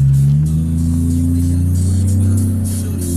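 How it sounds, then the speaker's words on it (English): A new Ford truck engine runs close by, a loud steady low drone with a slight rise and fall in pitch, as if idling or rolling slowly past. "Must be a new Ford truck or something."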